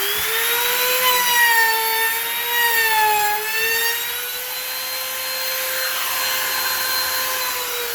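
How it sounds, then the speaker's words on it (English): A router shapes a quarter-inch round-over on a scrap piece of MDF with a loud, close, steady high whine whose pitch sags slightly as the bit bites, then stays level, with no voices. "with a scrap piece of MDF, here's where I want to make sure I have the depth correct on my router"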